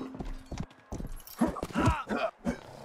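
Horse hooves clip-clopping in the medieval video game Rustler, a quick run of close, crisp hoofbeats coming in uneven bursts, with voices talking over the later part.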